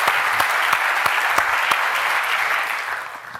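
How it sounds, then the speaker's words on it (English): Audience applause at a tech conference's opening welcome, a full, steady burst of clapping with sharp individual claps standing out, tapering slightly toward the end. "let's give them just a quick round of hand or applause, whatever"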